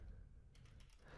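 Someone types on a computer keyboard, producing a short burst of quiet, close keystrokes that clatter quickly over a little over a second.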